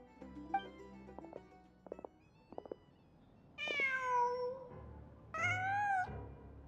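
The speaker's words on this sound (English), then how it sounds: "Just a cat." A cat in the Genshin Impact video game gives two drawn-out, clear meows after some faint clicks and soft noises, each meow loud and close with a rising-falling tone.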